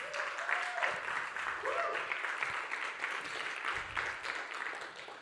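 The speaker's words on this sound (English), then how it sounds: "If you don't clap for that." A church congregation claps during a sermon, a steady, moderately loud patter of many hands that lasts the whole stretch, with a voice faintly over it.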